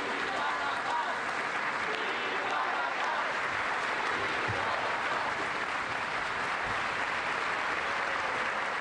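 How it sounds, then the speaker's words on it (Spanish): A crowd gives a sustained ovation inside the Teatro Colón in central Bogotá, applauding the signing of the new peace accord with the FARC; dense, steady clapping fills the whole stretch with no breaks. "Con esta cerrada ovación,"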